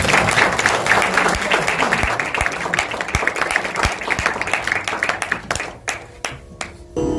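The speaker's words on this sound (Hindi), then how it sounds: "तो ललित के लिए भी एक ताली तो बनती है।" An audience claps steadily for a pakhawaj player at a classical music memorial festival, dense and sustained before thinning to a few scattered claps and trailing off.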